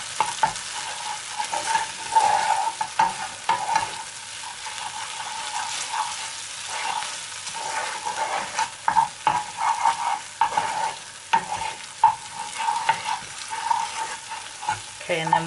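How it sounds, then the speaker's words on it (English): Garlic softening in a pan over low heat gives a continuous close sizzle, stirred steadily with frequent scraping and clicking strokes of a utensil throughout, and no voices. "Just begin to cook the garlic, make it soft."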